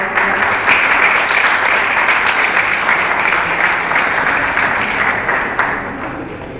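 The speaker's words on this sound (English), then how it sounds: "Can we have a big round of applause?" A lecture hall audience claps loudly and steadily for several seconds in a dense, even wash of applause that fades slightly at the end.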